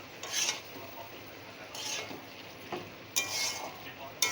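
Fried eggplant and fish heads being stirred and scraped in a sizzling pan, several spatula strokes over a steady close fry, no talk.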